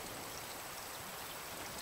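Rain falls steadily in the survival video game Raft, a soft, even hiss of drops with no breaks, faint and continuous.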